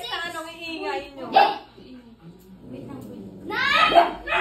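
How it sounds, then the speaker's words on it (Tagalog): Several dogs yap and bark noisily at a family birthday gathering at home, sharp bursts breaking out amid lively chatter and children's voices close by. "Kasi itong mga aso to, ang iingay eh."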